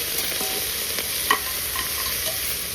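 Goat trotters for paya soup sizzle loudly in a pan, a dense continuous frying hiss with scattered crackles and a few spoon-against-pan clinks, close and alone.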